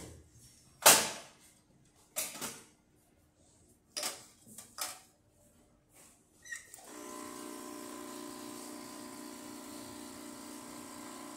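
A Rocket Appartamento espresso machine pulling a shot of espresso into a borrowed drip tray: a few sharp clicks and knocks, then a steady mechanical pump hum with faint hiss that runs to the end.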